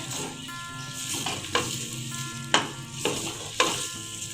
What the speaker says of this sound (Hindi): प्याज को हम गोल्डन ब्राउन कर लेंगे।